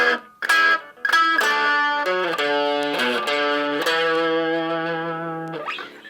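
Electric guitar playing a riff in the B position, a few choppy picked notes, then ringing bent and sustained distorted tones that fade out, played alone at a moderate level.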